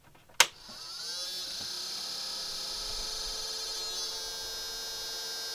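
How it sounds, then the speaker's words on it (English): A gunked-up extruder fan on a 3D printer whirs steadily and loudly after a sharp click as the printer powers on, holding a constant buzzing drone. "that's the fan here on the extruder. That's because it's kind of got gunked up a little bit, so it makes a lot of noise now"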